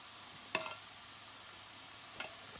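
Two brief scraping stirs of peppers, onion, green onion and peas in a pot, spaced apart over a quiet background sizzle.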